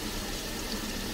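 Steady rushing water as a washing machine fills in a Rome laundromat, a constant close hiss of flowing water without pauses.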